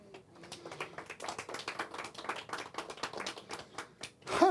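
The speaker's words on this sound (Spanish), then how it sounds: "un aplauso al Eterno." A church congregation applauding together, a dense run of claps rising and falling for several seconds, fairly quiet, with no speech over it.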